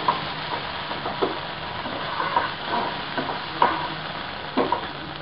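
Onions and tomato puree are stirred in a frying pan, giving a steady low sizzle broken by repeated soft scrapes and clacks of the spoon at an irregular pace, close by, with no voices.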